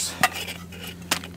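Pan being handled outdoors in a snowy forest before frying bratwurst sausages, with two brief metallic clanks over a steady low hum, quiet and close.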